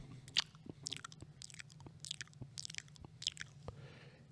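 A voice mimics someone loudly chewing gum in a public restroom, a rapid run of wet smacking and clicking mouth sounds, close and fairly soft, with no words spoken.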